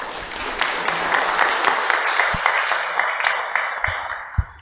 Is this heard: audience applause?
yes